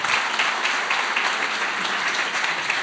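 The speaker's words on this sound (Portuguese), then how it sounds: "Uma salva de palmas para ele." Applause from a live audience at a talk, a dense, even wash of many hands clapping, fairly loud and sustained without pause or speech.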